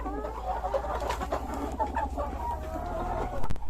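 Seven village chickens cluck and murmur close by, overlapping in a busy, continuous chatter with a brief sharper noise near the end.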